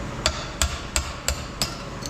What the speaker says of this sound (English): I just drill a hole in the back and drive them out with a punch